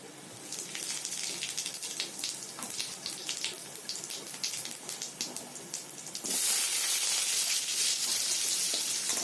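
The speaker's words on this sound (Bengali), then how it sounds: "এর মধ্যে একটা শুকনো লঙ্কা আর একটা তেজপাতা দিয়ে অল্প পরিমাণে গোটা জিরে দেব ফোড়ন হিসাবে।" A dried red chili, a bay leaf and whole cumin seeds hit hot oil as a tempering for a soybean and potato curry, giving a steady crackling sizzle that jumps partway through to a louder, fuller hiss with no talking.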